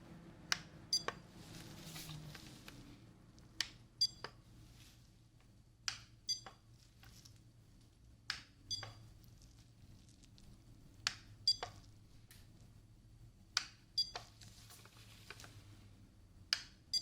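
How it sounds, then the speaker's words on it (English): Sharp, brief tones sound one at a time at irregular intervals during an ASMR-style medical hearing exam, each short and clear over a quiet background with no talking. "let me know when you hear a beep sound"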